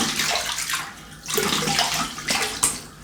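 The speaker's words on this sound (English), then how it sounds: "let me have a little quick rinse." Water runs in short splashing bursts over a razor as it is rinsed during a shave with a 1958 Gillette Fatboy, loud and close, with pauses between surges.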